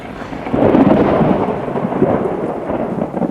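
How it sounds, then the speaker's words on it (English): A stage-play thunderstorm effect rolls through with rain, a low rumbling crash that swells early and fades with a second surge, fairly loud and without any talking. "I guess this terrible storm has just made me a little edgy."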